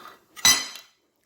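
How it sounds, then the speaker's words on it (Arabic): A utensil scrapes and clinks once against a pan while stirring soup with tomato, pepper, salt and garlic, a short close metallic stroke that dies away fast, with no talking. "نقلب بقى تقليبه حلوه"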